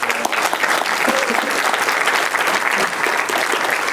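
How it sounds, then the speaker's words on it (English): An audience at a talk on Gen Z mental health gives a speaker a big round of applause, a dense, even wash of many hands clapping steadily for about four seconds with faint crowd murmur. "Let's give David a big round of applause"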